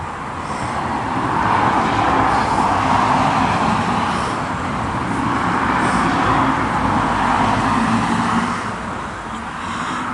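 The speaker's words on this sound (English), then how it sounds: "Got a car coming." A car passes on a rural road beside a planted orchard of muscadine and bullace vines, its broad roadway rumble swelling steadily over several seconds and fading near the end, with no talk.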